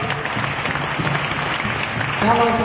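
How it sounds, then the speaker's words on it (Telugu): A crowd at a church gathering for St. Anthony's mass claps steadily in a dense, continuous patter that swells louder toward the end. "ఒకసారి అందరూ చప్పట్లు కొడదాం గట్టిగా."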